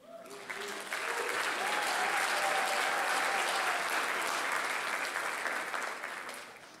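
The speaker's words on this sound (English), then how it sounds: "We can applaud that." Sustained audience applause fills an awards banquet for a high school scholastic awards night, a dense wash of clapping that swells quickly and holds steady before starting to fade.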